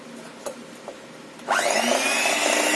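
Cake batter for a Black Forest trifle is beaten with an electric mixer, a steady loud whirring hum that starts abruptly after a few faint clicks and runs on without pause.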